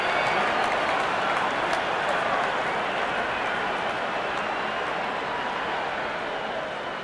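Packed crowd at an India versus Pakistan under-19 cricket match roars and applauds steadily in a dense, continuous wash of cheering and clapping that fades only slightly, heard from within the stadium.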